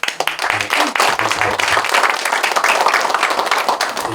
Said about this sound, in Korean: 저를 담임 목사로 공포해 주신 우리 두 분께 박수 한번.